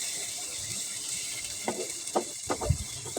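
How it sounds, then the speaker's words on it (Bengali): Spices for beef rezala stirred and fried in a pan, a steady sizzle under intermittent scraping strokes of the spoon, close and moderate, with no voices. "মশলাগুলি আমি ভালোভাবে নেড়ে চেড়ে কষিয়ে নিই"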